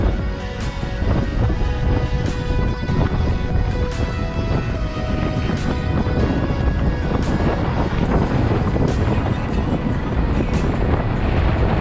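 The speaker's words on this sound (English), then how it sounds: "Wind piped up to about 25 knots, and we're in a little bit of a squall here." Strong squall wind of about 25 knots roars steadily offshore on a sailboat under dark clouds, a loud, continuous buffeting rush with faint rigging or water sounds, no talk.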